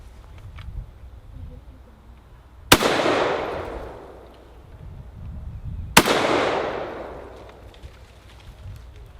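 Two loud, sharp German G41 rifle shots ring out several seconds apart, each a crack followed by a long, fading outdoor echo.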